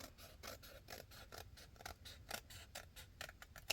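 Scissors snip through paper in a quick, steady run of close crisp cuts at a craft table, with faint background and no talk.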